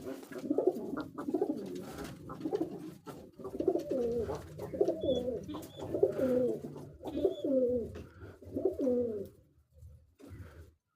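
Pigeons gathered to feed together coo in a close series of soft, rolling, throaty calls repeating over about ten seconds, with faint light taps and rustles between them.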